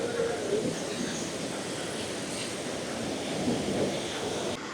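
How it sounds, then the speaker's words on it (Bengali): Madhabkunda waterfall roaring, a dense continuous rushing wash of water that holds steady and fairly loud throughout. "ওই তো ঝর্ণার শব্দ শুনতে পাচ্ছি"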